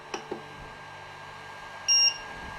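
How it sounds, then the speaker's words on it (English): A single short electronic beep from a Creality Ender-3 3D printer saving settings, high-pitched and clear, sounding once after a couple of faint clicks in a quiet room. "I'm gonna hit store settings and it should beep"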